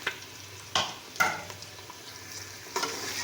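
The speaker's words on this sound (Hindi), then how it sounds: "तो इसको अच्छी तरह 5 मिनट तक भूनेंगे, भुनाई करेंगे।" Garlic ginger paste sizzles and fries in a hot pan over medium flame, with several scraping stirs breaking through the steady crackle, close and fairly soft.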